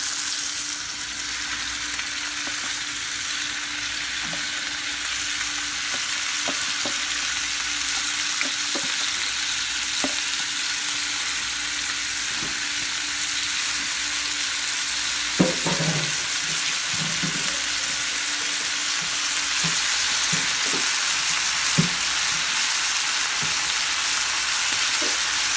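Salt fish with tomatoes, jalapeño peppers, garlic and onions frying in a pan, giving a steady broad sizzle throughout with occasional light clicks of stirring, no voices.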